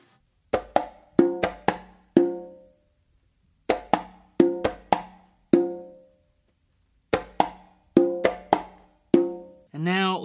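Hand drumming on three congas in a cumbia pattern of closed slaps and open tones, groups of four to five crisp strikes repeated three times with short gaps, close and dry, ending in a brief vocal sound.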